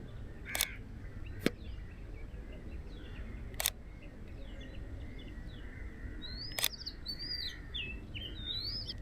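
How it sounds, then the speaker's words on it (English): Oriental magpie robin singing near Colva Beach in South Goa: faint, varied whistled phrases rise above a low outdoor hum, with a few sharp camera shutter clicks up close. "here's a magpie robin"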